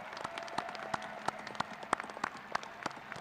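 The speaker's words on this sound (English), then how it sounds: "ask all of you to join me in a rousing chorus of applause for these newest master's graduates" Audience applause for new master's graduates at a spring university commencement ceremony: a steady bed of many hands clapping with sharp individual claps popping out, continuous and moderately loud, no voices over it.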